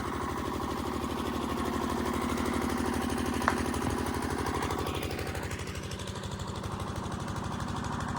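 A generator powering lights at a village Sanjhi festival runs continuously, a steady, low, throbbing engine drone at moderate distance with a brief click partway through.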